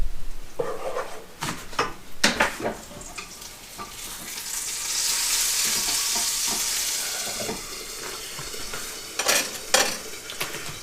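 A utensil stirs creamy eggs in a pan, making a run of scraping clinks and strokes close by, with a soft sizzling hiss swelling in the middle before more stirring strokes.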